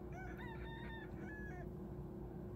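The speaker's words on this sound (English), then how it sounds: "Do you guys hear the rooster?" A rooster crows in the distance in Cozumel, Quintana Roo, Mexico, a couple of cock-a-doodle-doo calls over a steady low background hum.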